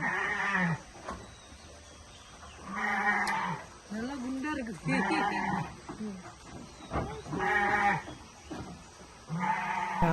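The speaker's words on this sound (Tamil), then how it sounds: "அம்மா ஆடு ஒரே சத்தம் போடுது" A mother goat bleats loudly and repeatedly, with several long wavering calls spread across the span and a voice speaking between them.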